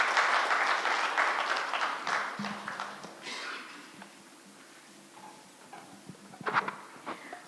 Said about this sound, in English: Kindly let us applaud as she comes to the front.